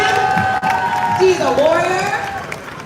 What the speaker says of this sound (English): a round of applause to send her some love